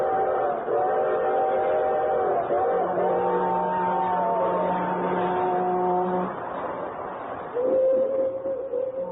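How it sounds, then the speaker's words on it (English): Freight train whistles sound in a radio drama, several long sustained tones that overlap and shift pitch, with a rumble of rolling rail cars underneath and a final whistle blast near the end. "Hear 'em? The whistles of the freight train?"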